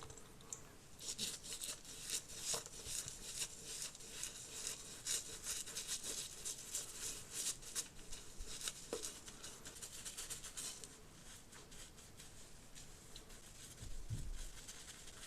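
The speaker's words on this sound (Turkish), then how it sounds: "Bu duyduğunuz ses fırçaların kudreti." Bristles of a Garnier cleanser brush scrub facial skin with quick, soft rubbing strokes, a faint, steady, close-up scratchy patter that continues throughout without speech.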